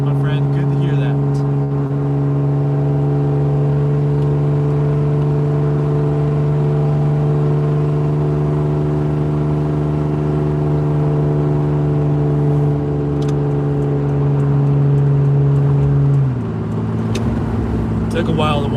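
A car accelerates hard with a steady loud engine drone under load, then the pitch drops as the automatic transmission finally upshifts near the end.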